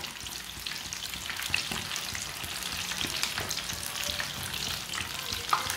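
Chicken leg pieces sizzle loudly in a pan, a continuous dense frying hiss with scraping and turning sounds scattered across it, close and steady with no talking.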